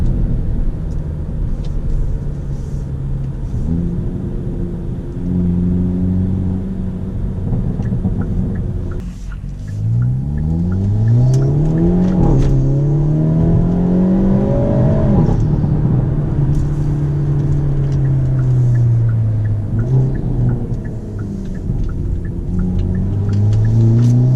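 A Hyundai Elantra N with a Forge turbo inlet and intake revs up and down repeatedly, with a rushing whoosh of turbo air intake and a rising whine over the deep rumble.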